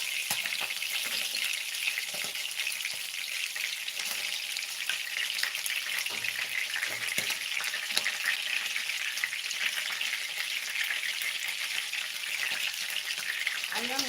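Butter fried chicken frying in a pan gives a dense, steady sizzle with bright crackling throughout, close and continuous, with occasional stirring scrapes and no talk.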